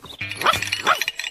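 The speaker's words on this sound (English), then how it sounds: "Teddy heard barking." A dog in a children's TV show barks twice in quick succession, loud and close.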